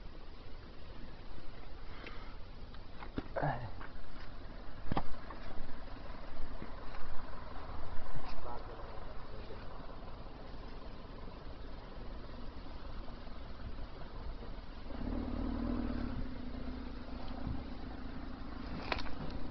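A motorcycle engine running steadily while climbing a hill near Tagaytay, a continuous mid-pitched drone with slight rises in effort, heard close throughout with wind noise and no talking.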